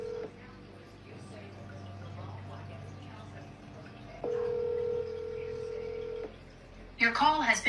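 Several telephone keypad tones beep one after another, followed by a longer steady tone as a call goes through. A voice speaks briefly at the end.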